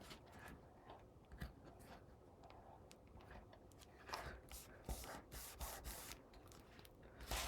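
Bone folder burnishing paper on a birthday card kit, faint soft rubbing and scraping strokes, quiet and close, growing a little louder toward the end.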